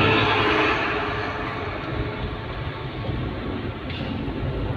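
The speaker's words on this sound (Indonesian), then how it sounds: "Ini perjuangan truk naik Sinjalawi ini." A truck engine strains uphill on the steep Sitinjau Lauik road with a continuous deep rumble and broadband roar, loud at first, then easing slightly and holding steady.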